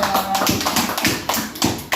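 A Catholic religious education class claps for a student group, a handful of uneven, close hand claps and taps in a short irregular rhythm.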